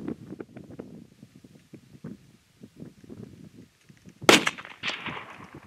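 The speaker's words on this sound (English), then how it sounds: "made an excellent shot with his K-Hornet" Single sharp rifle shot from a K-Hornet during a rockchuck hunt in windy rimrock country, cracking loudly near the end after a stretch of wind buffeting and rustling, with a brief echoing tail.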